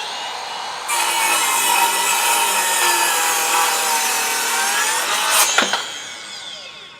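A Ryobi 18V cordless miter saw fitted with a Diablo Steel Demon blade cuts through steel, a loud sustained metallic whine that starts abruptly after a second, holds steady for several seconds, then winds down with a brief clatter at the end.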